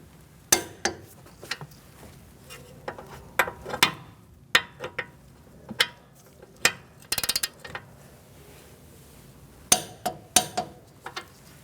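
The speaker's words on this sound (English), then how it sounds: "Snug these up and torque them to 84 foot-pounds" A torque wrench tightens wheel bearing bolts on a 2008-2014 Mercedes-Benz C300, giving scattered sharp metallic clicks and clinks in irregular bursts, close and fairly quiet, with brief gaps between groups.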